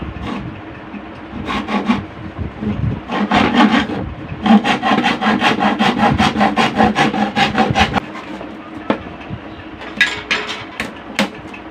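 A hand saw cuts through a plywood board in rhythmic back-and-forth strokes, loud and close, with bursts of rasping strokes separated by short pauses.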